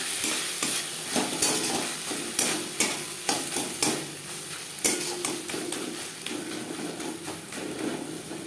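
Ginger and green chili paste stir-fried with onions and tomatoes for a tilapia curry: a steady close sizzle under repeated scraping strokes of a spatula against the pan, with rhythmic knocks throughout and no talking.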